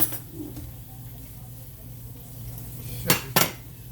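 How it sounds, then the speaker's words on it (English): A table knife scrapes and clinks against a plate in two sharp metallic knocks near the end, after a stretch of faint kitchen room tone, as hot breakfast biscuits are split open. "I'm just going to knife it, put that knife in there and open them up"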